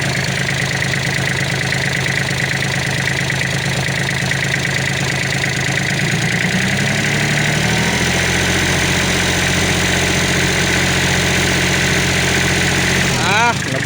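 A Kubota L3408 tractor engine idles quietly and steadily up close, its low rumble shifting tone partway through, with someone talking over it.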